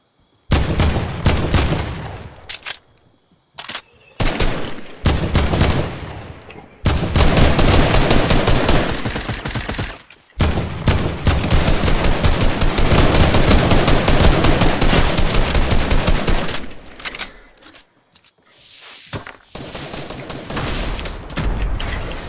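Heavy gunfire in Fortnite: long sustained automatic bursts broken by short single shots and brief pauses, loud and close, with no voices over the shooting.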